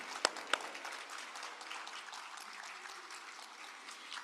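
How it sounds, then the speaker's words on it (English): Applause at an event on transforming African food systems after a partnership signing between institutions, soft and fairly distant clapping spread across a room, opening with a couple of sharper claps before settling into a steady patter. "Let's give them a round of applause again."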